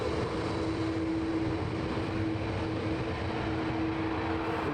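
An airplane roars steadily through a takeoff at sunset, a loud continuous engine wash with a sustained droning tone, heard alone without voices.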